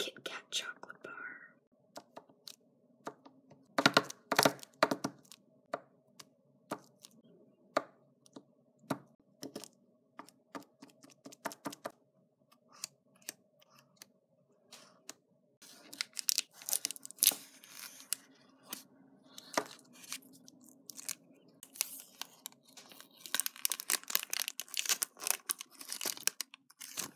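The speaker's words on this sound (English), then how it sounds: "this would not be an ASMR video without the absolute iconic Kit Kat chocolate bar" A Kit Kat chocolate bar being unwrapped and snapped, with close, soft crinkling and tearing of the wrapper in bursts, and crisp crackles, under faint whispering.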